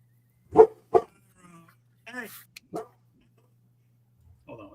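Several dogs barking in short sharp bursts, two loud close barks followed by scattered yips and whimpers, with a voice talking briefly between them.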